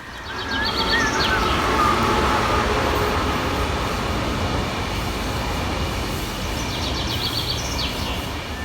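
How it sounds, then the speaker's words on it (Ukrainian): An electric commuter train crosses a bridge, a steady, loud rumble of wheels on rails that holds for several seconds, with faint high squeals and chirps above it, heard from nearby outdoors. "Так, а це електричка проїхала."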